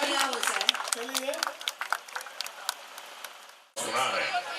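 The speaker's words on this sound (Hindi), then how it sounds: "जोरदार ताली हमारे बड़े भाई। तालियां हो जाए।" Guests at a lavish birthday event clap enthusiastically for a few seconds as someone speaks over the applause, and then talk continues alone.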